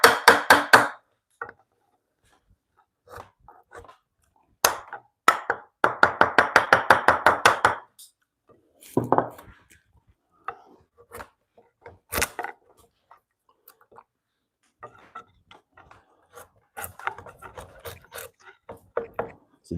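Hand saw working through a knot in wood during a curved bunk rail cut, heard as bursts of rasping strokes, a fast rhythmic run in the middle, then scattered short scrapes and taps, close and moderately loud with no talk.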